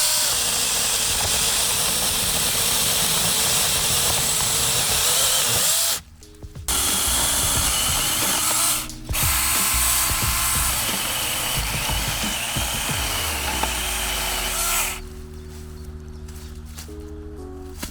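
A cordless Avant mini saw buzzes loudly and steadily as it cuts through thicker dry wood, close up, with a couple of brief pauses and a change in pitch as the blade works through, then it winds down.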